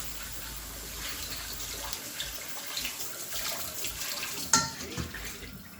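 Tap water runs steadily over peas, pig's tails and chicken feet being washed in a sink, a continuous hissing splash with a brief clatter near the end.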